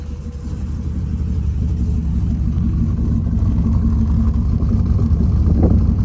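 A turbocharged 6-litre engine idles at first start-up with a deep, steady rumble, loud and close, holding a constant low throb with no talking.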